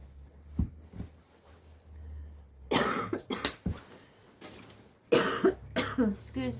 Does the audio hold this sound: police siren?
no